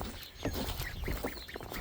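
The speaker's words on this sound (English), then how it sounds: "Aunt Mama's yard ducks." Yard ducks quacking close by in a quick cluster of rough, nasal calls that overlap one another over a couple of seconds, with no talking.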